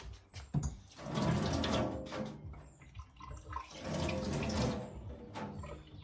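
Hands being washed under a running tap at a sink, steady splashing water flowing in two long bursts with a brief lull between, close and fairly loud, no talking.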